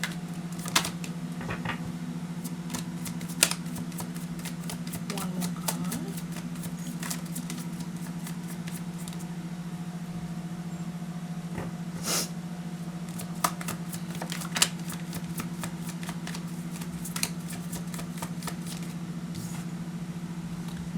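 A deck of tarot cards is shuffled in quick bursts of soft riffling clicks and pats over a constant low hum, with no voices.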